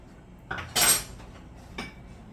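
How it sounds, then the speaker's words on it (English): Beef stew stirred in a pot, made as jerk beef: a few close metallic clanks of a utensil against the pot, with one louder scrape in the middle and a softer knock near the end. "You wanna mix it up or stir it up."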